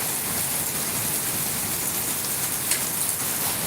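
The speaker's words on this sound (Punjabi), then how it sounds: "ਮੀਂਹ ਜਿਹੜਾ ਬਹੁਤ ਪੈ ਰਿਹਾ ਤੇ ਗੜੇ ਵੀ ਬਹੁਤ" Heavy rain mixed with fine, small hailstones pelting down, a dense, steady hiss and patter close by with no voices.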